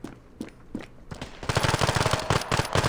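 A gun in Standoff 2 fires a few spaced single shots, then a rapid, loud automatic burst rattles steadily to the end.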